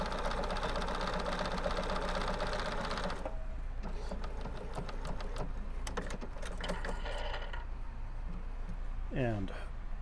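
A Bernina sewing machine runs fast and steadily at first with a dense mechanical whir and needle clatter, then slows into separate clicking stitches and knocks before stopping, while a person speaks over it.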